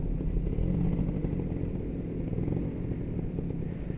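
A two-stroke Kawasaki Ninja motorcycle engine with its stock exhaust runs steadily close by, a dense, continuous rattling exhaust drone without pauses.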